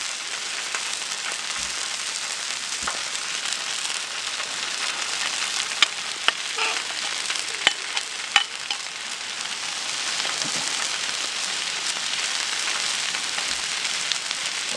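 Pork chops frying in a pan with an apple and onion mixture tucked between them, giving a steady close sizzle throughout with a few small pops and stirring clicks, no talking.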